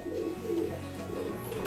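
A female songbird at a bird contest gives soft cooing, dove-like calls, repeated in a steady rhythm against a busy background.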